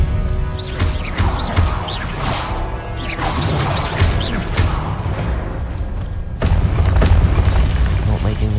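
An Expelliarmus disarming spell in the game Hogwarts Legacy, booming magical impacts and whooshing casts in a busy duel, with a heavier blast near the end and a voice speaking over it.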